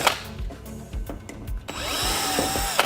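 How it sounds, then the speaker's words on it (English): A power drill runs while a wall-mounted unit is removed from a wall, opening with short knocks and bursts, then a sustained close whine as the motor spins up and holds. "We're gonna need our drill now."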